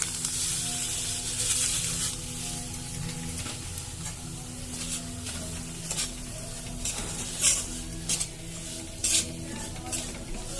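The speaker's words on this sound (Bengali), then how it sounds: "ভালো করে সুজিটা লাল করে ভেজে নেব।" Semolina and raisins fry in homemade ghee in a pan, giving a steady sizzle under repeated scraping strokes of a stirring spoon, with occasional sharp clinks of metal against the pan.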